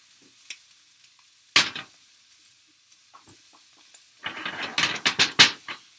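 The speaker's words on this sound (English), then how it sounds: "I'm then going to go underneath, lift up, and pull my egg under." An omelette egg sizzling in a frying pan, quiet at first, then a loud scrape of the spatula lifting the egg and a cluster of crackling, scraping bursts near the end, close by.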